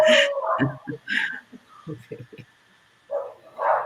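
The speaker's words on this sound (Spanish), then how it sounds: "espero que no molesten mucho mis perros" Pet dogs barking indoors in a series of short, close barks and yips with a few pauses, and a voice is heard talking at times.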